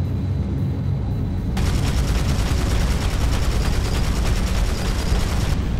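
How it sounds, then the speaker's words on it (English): Gun turrets firing in the vehicle combat game Battlezone, a loud sustained barrage of rapid shots over a rumbling battlefield background, starting after a brief lower-level moment and continuing steadily. "Our gun turrets must engage them."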